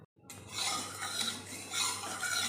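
Metal spatula scraping and stirring a little oil around the sides of a hot kadai (wok) before frying khesari dal bora, a steady, close scraping with light sizzle throughout after a brief silent start.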